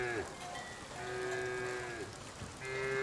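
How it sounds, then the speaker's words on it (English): Cattle lowing in the rain in the farming game Foundation, several drawn-out moos from more than one cow, layered and overlapping over a soft rain hiss, with no talking. "we'll listen to the cows in the rain"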